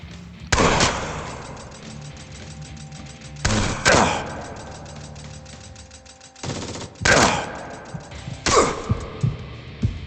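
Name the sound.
chain gun fire from hellish commandos in video game Jupiter Hell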